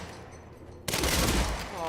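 Gunfire erupts in the video game Quantum Break as shots punch through cover, a sudden loud burst of rapid fusillade after a quieter lead-in.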